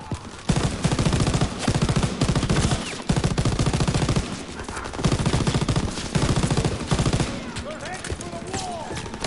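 Sustained automatic gunfire from a machine gun in the World War 2 video game Call of Duty, firing in dense continuous bursts with brief pauses and fairly loud throughout.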